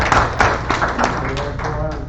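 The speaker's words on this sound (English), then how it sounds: "Round of applause for that." A small crowd at a village council meeting gives a short burst of clapping, a dense patter of hand claps over a couple of seconds, close and fairly loud.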